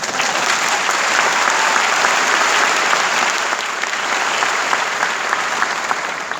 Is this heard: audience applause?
yes